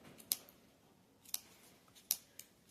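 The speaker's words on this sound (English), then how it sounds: "we cut through the loops at each side of this" Scissors snip through the yarn loops of a pom-pom, with four sharp, close snips spaced about a second apart over quiet room tone.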